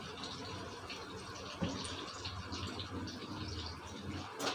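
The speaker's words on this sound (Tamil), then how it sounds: "இதில் இப்போ நம்ம அரைச்ச தேங்காய் ஊற்றிக்கிறோங்க." Ground coconut paste is poured into a Kerala-style fish curry made with raw mango. A faint, soft liquid pour and gentle splashing run steadily at low volume, with no talk.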